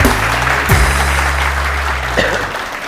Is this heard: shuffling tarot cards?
no